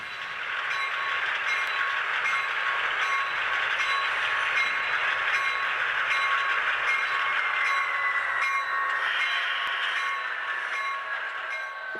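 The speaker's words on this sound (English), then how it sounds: "this is the end point of the freight train we've been following" HO scale model freight train rolling along the Carquinez Model Railroad Society layout, a steady continuous rumble and metallic hiss of wheels on track, fairly close and even throughout with a faint squeal near the end.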